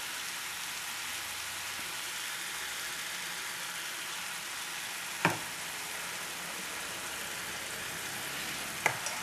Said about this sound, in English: Now I'm going to add the tomato sauce.